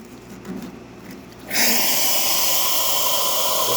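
Steam hisses hard and steadily from the boiler wand of a Profitec Pro 700 espresso machine, kicking in loudly after a quieter stretch of background and holding strong to the end.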